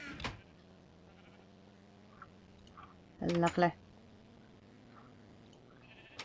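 A sheep in a video game bleats once, a short, faint, wavering call in the middle, set against a quiet game background, with someone speaking briefly at the start.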